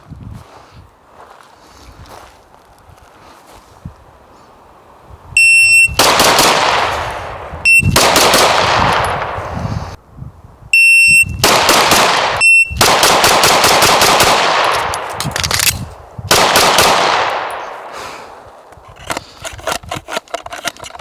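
Smith & Wesson M&P 2.0 LEO pistols fired at an outdoor range, loud sharp shots in quick rapid strings with brief pauses between bursts, close and echoing.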